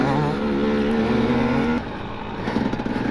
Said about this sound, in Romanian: Se duce pe wheelie tare bine.